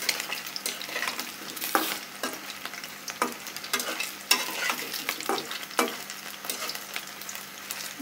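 Chicken and cauliflower kofta fry in hot oil with a steady sizzle, broken by repeated sharp scrapes and clanks of stirring, close and alone without talk.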